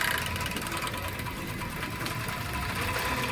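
An industrial serger runs without pause to form a thread chain, giving a steady, loud, fast mechanical whirr with a dense stitching rattle. The whirr holds even throughout.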